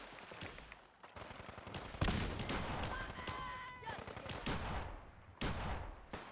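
Bursts of gunfire crack in the distance in Fallout 4, irregular volleys of shots over a low background rumble, with a brief whistling tone midway.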